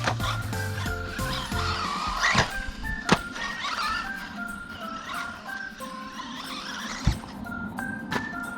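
Small RC buggy, a Losi 22 or Schumacher Cougar KF2, whining and sliding across a track, motor pitch rising and falling over several seconds with sharp knocks near and loud.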